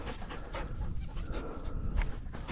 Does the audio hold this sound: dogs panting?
yes